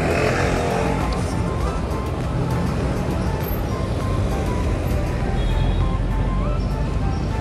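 Steady road traffic with cars rolling past continuously on a city street, a dense broadband whoosh and engine rumble holding at a constant close level with no clear gaps between vehicles.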